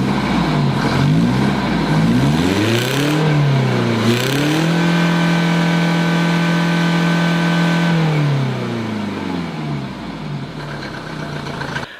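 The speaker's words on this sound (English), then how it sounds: "I'll start the engine and see what kind of smoke we have." A Mercedes-Benz W124 diesel engine cranks and fires, then revs up and settles into a steady, loud running note with rising and falling pitch sweeps, close by and with no talking.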